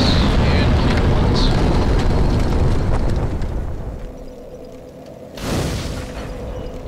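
A bonfire being kindled in the Dark Souls video game: a loud, broad rushing roar that slowly fades, then a second short whooshing flare near the end.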